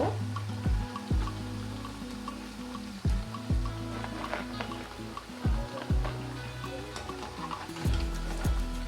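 Chicken, vegetable and potato cracker biscuits deep-frying in oil until crisp, a steady bubbling sizzle broken by repeated low thumps and scraping knocks of a utensil in the pan.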